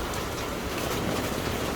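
Heavy rain pours steadily onto a Taipei street, a loud, unbroken wash of hiss and patter with no voices.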